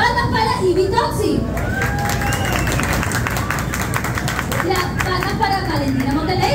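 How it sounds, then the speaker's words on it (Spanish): A live audience at a drag queen competition claps steadily for contestant Ivy Toxi, a dense, continuous patter of hands lasting throughout, with a voice speaking over the applause. "Palmas para Ivy Toxi."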